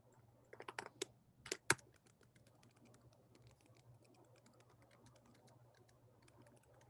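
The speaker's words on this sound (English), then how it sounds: "Let me type it to everyone." Someone typing a message on a computer keyboard: a quick cluster of sharp, close keystrokes at first, then lighter, scattered taps over a low steady hum.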